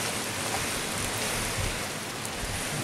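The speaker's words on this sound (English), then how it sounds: "You can see all that bloody rain coming down." Rain pours down outside in a garden on a blowy, wet morning, with the wind rattling things. A steady, dense hiss of rain and gusting air runs unbroken throughout, with no voices.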